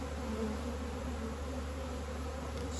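Honeybees buzzing steadily at an open hive during spring management, a dense continuous hum of many insects close by with no talk.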